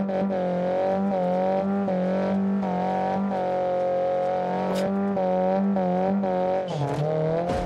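Tofaş car in BeamNG.drive revving hard in repeated throttle blips, a loud, close engine whose pitch rises and falls in waves, ending in a sharp knock and scrape near the end.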